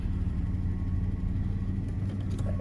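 A Daimler XJ40 engine running on after being shut off, a low, steady rumble with a slight shudder that holds through the whole stretch without dying out.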